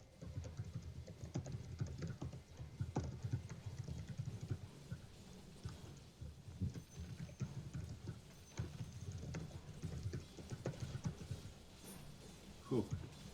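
Fast, steady clatter of keys on a computer keyboard as a message is typed during a Tropical Tower Wars strategy game, close and continuous for the whole stretch, with a little game sound mixed in.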